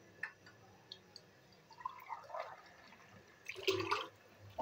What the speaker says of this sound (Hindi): अब ये मैं इसमें थोड़ा सा पानी और डालूँगा